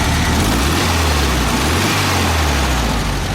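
A VW Beetle engine, fresh from alternator, starter and distributor replacement, idles steadily with a low, even rumble that stays close and constant throughout, no talking over it.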